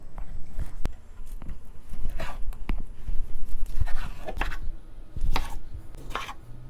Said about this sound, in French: Je vais commencer par préparer mes tomates. Que je coupe en 4.